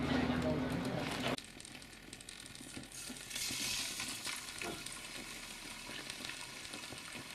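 Bacon fries in oil on a homemade beer can camping stove outdoors, giving a continuous crackling sizzle at close range that stays steady as voices talk over it.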